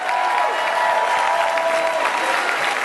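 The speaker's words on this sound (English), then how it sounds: "Look around and clap." Audience applauding steadily at a home business presentation, a sustained wash of clapping from a large crowd for about three seconds, with faint voices underneath.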